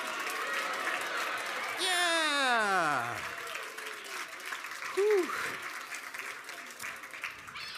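An audience at a kids' show in a rotunda applauds, a continuous wash of clapping beneath sliding, whooping vocal tones and some talking.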